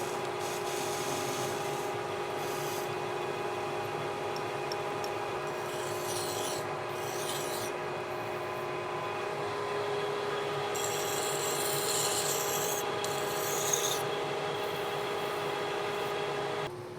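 A metal lathe turns a shaft while a round insert is hand-fed to cut a chamfer, a steady motor hum with tonal whine and intermittent scraping bursts of cutting, moderately quiet and close, no voices.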